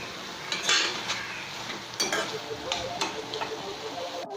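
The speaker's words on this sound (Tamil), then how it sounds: "நான் இப்போ மீதி பாலையும் சேர்த்துக்கிறேன்" Milk being poured into a pan and stirred while making Double ka Meetha, a soft sizzle with gentle scraping and light clinks of a utensil against the pan, close and quiet, no voices.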